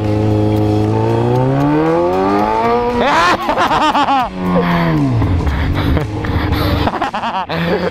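A motorcycle engine accelerates with steadily climbing, strongly harmonic whine that rises, drops and rises again, loud and close, with people laughing and talking over it.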